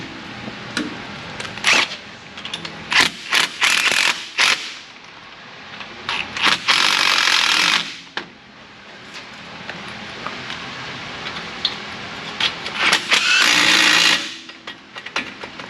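Bolts being tightened on a Jeep Wrangler YJ 4.0, with repeated bursts of ratcheting or impact-driver whirring, some short and clustered, others longer, close and fairly loud, with no speech.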